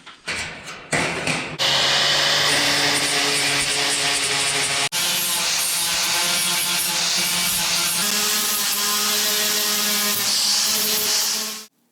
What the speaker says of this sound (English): I'm just going to use a small grinder with a wire wheel to clean those up a little bit.